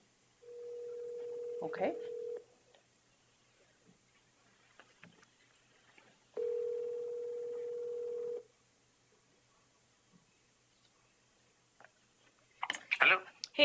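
Speakerphone at a county board meeting gives a steady dial tone, then a burst of dialing clicks, a second stretch of tone, and more clicks near the end, with a brief voice in between.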